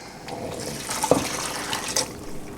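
Beef bouillon poured into a soup pot, a soft continuous liquid splashing and trickling at close range with a brief louder splash partway through, no voices.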